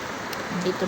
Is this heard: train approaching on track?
no